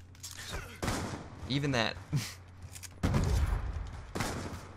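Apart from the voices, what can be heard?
gunfire in a video game trickshot match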